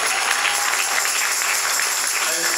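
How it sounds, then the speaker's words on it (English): A church congregation applauding, broad and even clapping that stays loud for a couple of seconds without letting up. "Give him a round of applause too."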